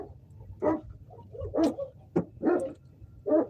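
Excited dog barking near a new car on a ranch in the Fresno, California area, about five loud separate barks and yips in an uneven burst with no talk.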